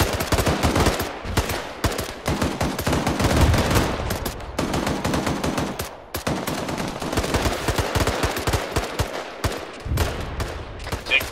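Sustained automatic gunfire in the military shooter Arma 3, loud dense bursts of rapid shots with brief gaps, continuing almost without pause from start to finish.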